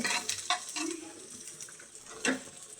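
Onions fry in a pan with tomato and new potatoes, giving a soft sizzle broken by a few short stirring scrapes and clinks, close and fairly quiet, with no talking.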